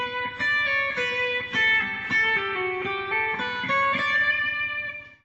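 An electric guitar plays a clear single-note melody from Pachelbel's Canon, each note plucked distinctly with a steady, moderate rhythm and a bright, slightly effected tone.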